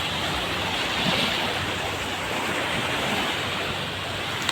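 Sea waves at a Bulgarian beach make a constant close wash of surf mixed with wind, steady and full throughout with no voices.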